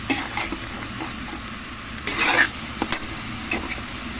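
Vegetables are stirred into a sizzling crab dish in a pan, with a steady fry hiss broken by scraping spatula strokes and a few sharp clinks against the pan.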